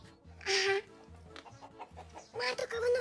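Chickens cluck in short bursts, with a couple of louder squawky calls standing out over a low background rumble.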